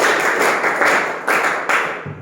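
A classroom audience claps in sharp, loud unison bursts during a counting clap game, several separated group claps landing in an uneven rhythm before a brief quiet at the end.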